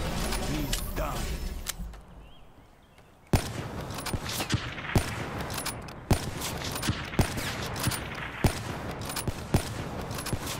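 Gunfire shot through a wall in Call of Duty Black Ops III during a 1v1 match: an opening rattle, a brief lull, then a dense run of single sharp shots at irregular intervals over a busy background, with players talking.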